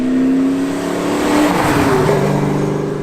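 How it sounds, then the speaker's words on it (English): A Fox Body Mustang's 302 V8 with two-chamber Flowmaster exhaust revs up loud and close, a rumbling, rising engine note that swells and holds for a few seconds with no talking. "He's got 2-chamber Flowmasters on there. Just has a very, very unique sound to him."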